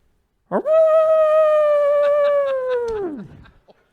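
A person imitates a coyote howl: one loud, sustained, steady voiced tone lasting over two seconds that then bends downward and breaks off, close and alone.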